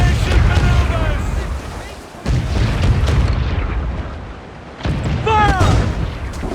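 Ship cannons in the Assassin's Creed 4 Black Flag video game fire in heavy booming blasts, two or three big detonations with rumbling tails, mixed with shouted voices.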